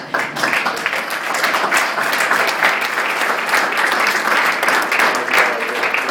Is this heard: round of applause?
yes